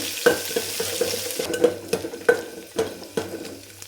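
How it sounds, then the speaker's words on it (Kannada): Chopped onions sizzle in a pan as a spoon stirs them, with repeated clear metallic taps and scrapes against the pan over a low crackle. "ಹಾಗೆ ಕಟ್ ಮಾಡಿರೋಂಥ ಈರುಳ್ಳಿನೂ ಸಹ ಸೇರಿಸ್ತಾ ಇದ್ದೀನಿ. ಸ್ವಲ್ಪ ನೀಟಾಗಿ ಈ ಥರ ಫ್ರೈ ಆಗಬೇಕು."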